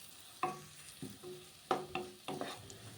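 Coriander-cumin powder and chilli masala fry in a pan with a few sharp stirring scrapes and a soft sizzle, in short bursts with quiet gaps between, and no voices.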